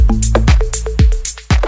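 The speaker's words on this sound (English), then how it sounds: "The percussion is full of rhythmic elements, it's organic, it's humanized" Organic, humanized deep house percussion plays on its own as a short, loud groove. Kick thumps alternate with bright shaker and hat ticks and tonal hand-drum hits in a lively, swung rhythm.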